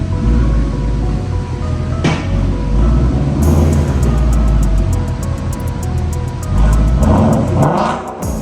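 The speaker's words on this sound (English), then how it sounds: "let's go ahead and pull this Mustang inside and get it jacked up in there" A Ford Mustang with body damage rolls into a garage, its engine rumbling steadily and loudly throughout with a brief swell partway, no talking over it.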